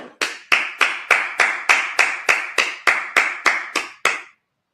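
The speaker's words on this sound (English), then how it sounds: "Just clap it up." A congregation at a Sabbath service claps in unison, about eleven sharp, evenly spaced claps in a steady beat that then stop abruptly, leaving silence.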